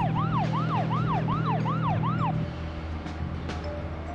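A police car's wailing siren in the video game Deadly Premonition: Origins rises and falls in quick repeated sweeps over an engine hum, then cuts off midway, leaving the engine running alone.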